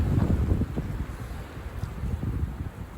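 A rain gust sweeps past a tree during a short, heavy shower, with steady, blustery wind buffeting the microphone and a low, continuous roar throughout.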